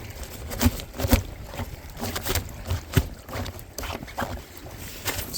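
Kayak paddling on Lake Vänern in Sweden, uneven splashes and drips from paddle strokes, close to the microphone and mixed with light wind noise.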